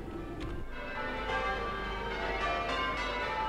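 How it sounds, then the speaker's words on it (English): Church bells ring softly in the distance over a steady ambient background in the train simulator game Train Sim World 3, on a Glossop route, with no one talking. "Church bells in the background."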